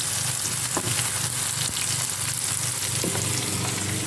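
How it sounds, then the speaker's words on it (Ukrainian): Vegetables frying in a pan for an outdoor country breakfast, a steady dense sizzle that holds loud and close throughout, with a few faint clinks of stirring and no voices. "звідси підсмажуються наші овочі"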